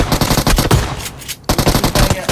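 Rapid automatic gunfire in a battle royale mobile video game, loud dense bursts of shots with a brief pause in the middle before firing resumes, close and dominant without talk over it.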